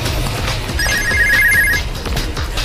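A telephone rings in an outdoor city chase game near a theatre street in Ikebukuro, its electronic ringtone trilling for about a second over steady background noise before someone answers.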